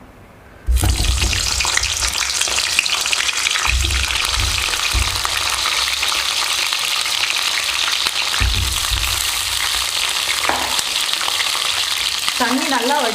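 Drained brinjal (eggplant) pieces dropped into hot oil for an oil brinjal gravy, setting off a sudden loud, continuous sizzle and crackle with occasional stirring knocks, close and steady throughout without talking.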